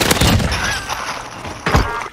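Gunfire in Warzone on Rebirth Island: two sharp bursts of rapid shots, one at the start and one near the end, loud and close, with game ambience in between.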